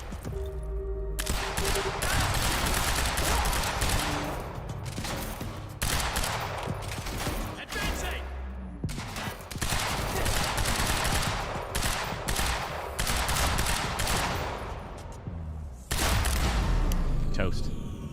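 Gunfire in the video game Quantum Break: sustained bursts of rapid shots and heavy impacts in several long volleys, broken by brief lulls, loud and close, with someone talking over parts of it.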